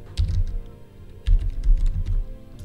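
Someone types a short preset name on a computer keyboard: two quick runs of crisp clicking keystrokes separated by a brief pause, close and fairly quiet.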